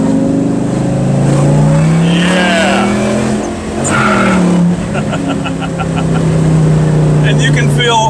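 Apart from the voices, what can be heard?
Mustang GT500 engine revving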